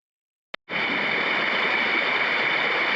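A small mountain creek flows in a steady, broadband rush of water that starts abruptly after a brief click and carries on evenly and close, with no voices.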